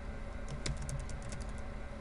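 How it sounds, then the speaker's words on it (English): Computer keyboard being typed on during a lab setup, a quick run of light, close key clicks at an uneven rhythm, with no talking. "And here we're going to type in"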